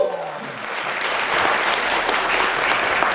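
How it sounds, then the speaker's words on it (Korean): Loud, dense applause from a large crowd, steady clapping that swells slightly and holds throughout. "달성했습니다. 박수 주세요."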